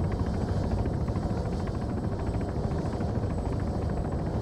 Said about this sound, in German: Achtung, rechts ist ein Heli.